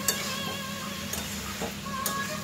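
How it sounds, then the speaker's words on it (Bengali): Young jackfruit and prawns stir-fry with spices and potatoes in a pan, giving a continuous gentle sizzle, with soft scraping and intermittent clicks of a spatula stirring nearby. "মশলার সাথে ভালো করে মিশিয়ে নেব, ভালো করে কষিয়ে নেব আস্তে আস্তে"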